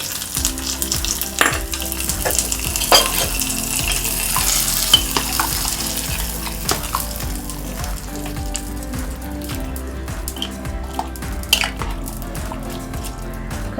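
Ingredients, including mustard seeds and curry leaves, go into a hot pan for Gajbaje, a mixed concoction curry, and sizzle steadily while a spoon scrapes and stirs them in repeated strokes, close and fairly loud, with no talking.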